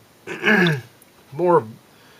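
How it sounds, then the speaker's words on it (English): Someone clears their throat twice, two short rough rasps close to the microphone with a brief pause between them. "excuse me, clear my throat"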